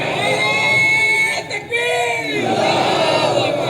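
Crowd at a religious sermon gathering in Nashik chanting slogans together, a loud, dense swell of many voices that dips briefly and then surges back.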